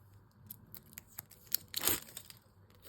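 Sticky tape is pulled off a roll in a few quick tearing bursts, one louder rip near the end, close by in an otherwise quiet room.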